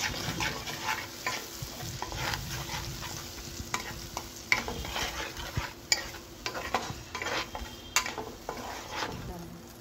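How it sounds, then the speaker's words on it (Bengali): A paste of ginger, garlic, onion, tomato and green chilli fries in a pan while being stirred, giving a continuous sizzle with repeated scraping and clinking of the spoon against the pot, close and fairly quiet. "এবার এটাকে কষিয়ে তারপরে এটাকে ঝাল করব।"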